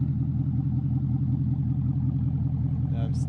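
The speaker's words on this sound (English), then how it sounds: "And that exhaust though, God, it's loud." A 2019 Mustang GT with an MBRP axle-back and Pypes H-pipe exhaust rumbles at idle, a loud, deep, steady burble close by, with a brief higher sound near the end.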